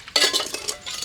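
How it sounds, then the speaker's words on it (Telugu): Close scraping and clinking as the bottom of a rice pot is scrubbed hard during village dishwashing, in short rapid strokes. "అన్నం గిన్నె అడుగున గట్టిగా దోమకపోతే అన్నం పాడవుతుంది"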